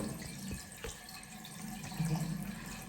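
A cold water tap runs into a sink, a faint steady trickle and splash with a few soft knocks, quiet and close.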